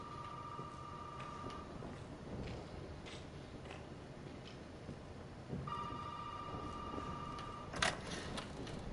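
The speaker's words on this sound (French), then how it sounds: "Je suis obligé d'aller répondre au téléphone." A telephone rings inside the Resident Evil 7 video game, two bursts of steady electronic trilling separated by a pause of quiet ambience, with a sharp clack near the end.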